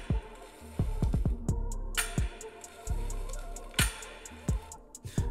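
A Bevel Pro cordless clipper and trimmer with leverless gap control runs close by, its low motor hum starting and stopping among a series of sharp, irregular clicks.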